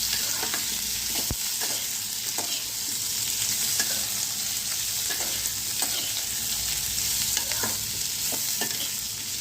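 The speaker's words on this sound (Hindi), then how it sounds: "और इसी तरह से हल्के हल्के इसको भूने लेते हैं" Onions sauté gently in a pan for shahi paneer, a steady close sizzle with periodic scraping stirs and occasional light clinks, no voices.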